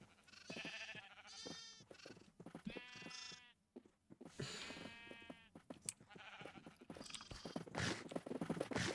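Sheep in a Minecraft-style survival game bleat repeatedly, several distinct close bleats with brief gaps, mixed with a few soft clip-clop footsteps.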